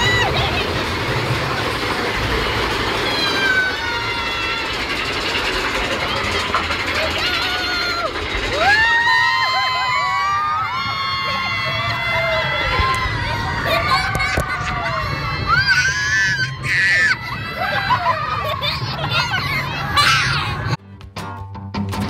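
The Big Thunder Mountain Railroad roller coaster rumbles and clatters along its track while riders shout and scream excitedly, loud and close, with talking throughout.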